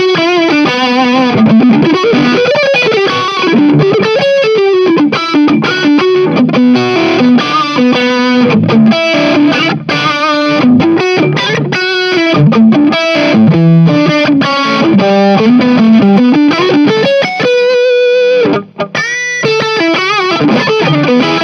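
Electric guitar on the neck pickup run through a Joyo UZI distortion pedal, a loud, saturated Marshall-style tone playing a continuous riff of chords and single-note lines for about twenty seconds, with no talk.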